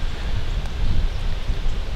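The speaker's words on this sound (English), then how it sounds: "But this wind is swirly" Steady wind roars and buffets the microphone, a dense low rumble with slight surges, no voices.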